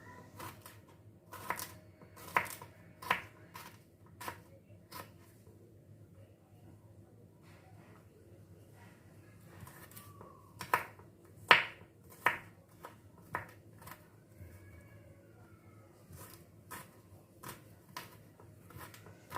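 A knife chopping garlic into small pieces on a board, irregular clusters of crisp taps that stop briefly and then resume, fairly quiet and close.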